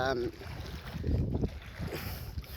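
Motorized outrigger boat running over the water at low tide, its steady engine rumble blending with a continuous rush of water and wind buffeting the microphone.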